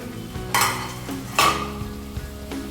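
Taki fish and radish curry stirred in a pan as its liquid cooks down, with two loud scraping stirs over a continuous bubbling sizzle, close and without speech.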